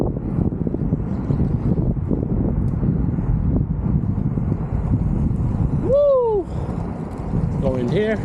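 Strong wind roars and buffets the microphone on an extremely windy day outdoors. A loud, steady rush fills the whole span, with a brief whooping voice near the end.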